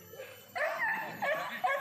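A hunting dog yips and barks in short, high bursts during a morning hunt, fairly close, with a couple of sharper yelps near the end.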